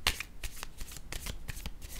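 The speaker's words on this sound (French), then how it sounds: "je vais piger une autre carte." Tarot cards being shuffled and drawn, a close run of soft papery riffles and flicks with sharp snaps of card edges, repeated several times in quick succession.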